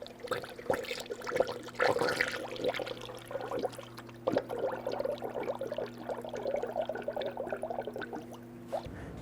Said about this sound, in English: Now I'm going to go ahead and fill up our radiator with the manufacturer specified coolant.